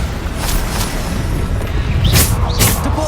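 Bombarda spell explosions in Hogwarts Legacy, a few sharp magical bursts and whooshes cutting through a steady, dense rumble of combat noise.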